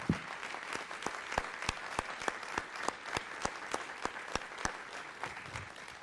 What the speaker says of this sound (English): I would like them to stand so we can give them a round of applause as well.